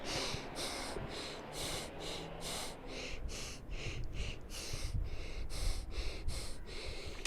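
Rapid, forceful belly breaths in a breathwork demonstration, a close series of sharp snorting inhales and exhales in steady rhythm, about a dozen pulses in quick succession.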